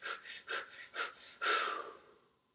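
Deep belly breathing, with four quick, rhythmic breaths followed by one longer, fuller breath that trails off into quiet, all close and fairly soft.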